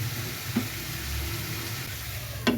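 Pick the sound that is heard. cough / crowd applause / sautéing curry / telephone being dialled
sautéing curry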